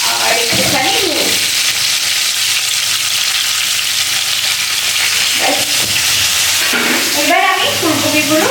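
Cauliflower seasoned with turmeric and salt fries in a pan with a loud, steady sizzle, and the pieces are stirred now and then while someone talks over it.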